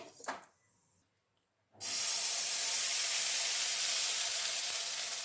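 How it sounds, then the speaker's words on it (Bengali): Water splashed onto a hot, oil-brushed wok over a high gas flame for chitoi pitha bursts into a loud, sustained hiss after a brief quiet pause, continuing steadily to the end with no talk. "এবার আমি জলের ছিটে মারছি"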